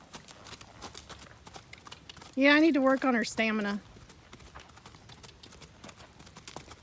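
A horse's hooves clip-clop in a quick, steady beat on the ground during a gaiting lesson, while a person speaks a short sentence close by over the footfalls.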